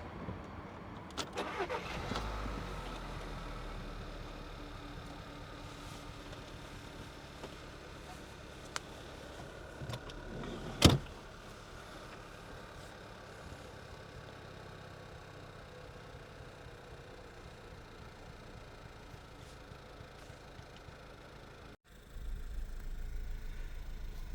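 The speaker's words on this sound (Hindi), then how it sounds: "गाड़ी तो स्टार्ट हो गई है" A Volkswagen car engine, just fitted with a new battery, starts with a short sharp burst and then idles steadily at moderate volume, with a faint misfire in the running.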